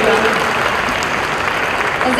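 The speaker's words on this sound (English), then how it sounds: "Big round of applause." Audience applause at a live fashion show event, a dense steady clatter of clapping filling the whole stretch at close, loud level, with voices mixed in.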